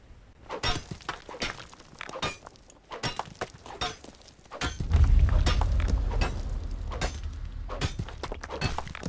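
Iron ore is mined in Conan Exiles with repeated pickaxe strikes, heavy thunks and cracking impacts spaced irregularly, and a deeper rumbling layer of breaking rock joins halfway through. No one speaks.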